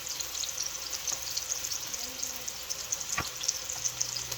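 Meatballs browning in a frying pan for meatball subs make a soft, continuous sizzle and crackle, with one brief sharp tap partway through.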